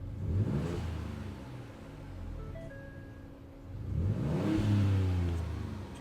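A truck engine fitted with an S&B intake revs up twice with the hood closed, each rise in speed followed by a muffled intake blow-off whoosh, and it idles low between the two pulls.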